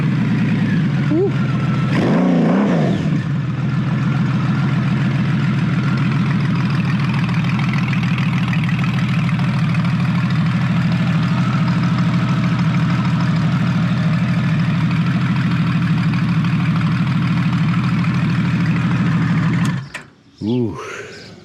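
A Honda Valkyrie motorcycle idles with a deep, steady, loping rumble, close and loud, after a brief blip of revs near the start; a short sharp rev closes it near the end.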